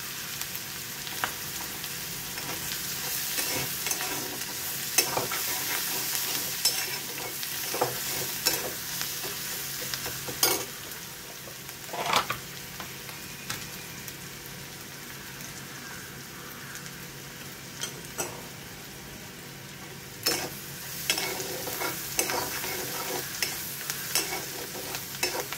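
Onions fry with a little salt for an egg curry, a continuous crackling sizzle punctuated by repeated sharp scraping and clacking stirs against the pan, close and with no talking over it.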